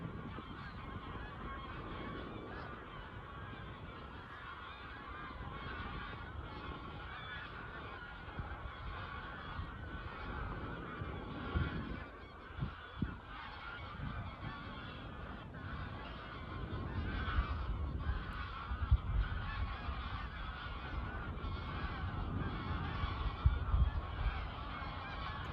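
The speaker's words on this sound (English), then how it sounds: "Can you hear the geese?" Geese honking along the Norfolk coast near Salthouse, a dense chorus of calls carrying over a steady outdoor background and growing louder and closer toward the end.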